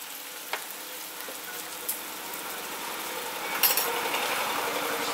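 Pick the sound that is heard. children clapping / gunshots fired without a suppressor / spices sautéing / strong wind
spices sautéing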